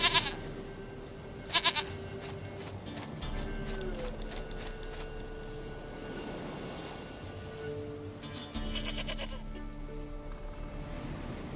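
A goat in The Witcher 3 gives several short bleats scattered through a quiet in-game scene, with faint ambient tones in between, fairly soft overall.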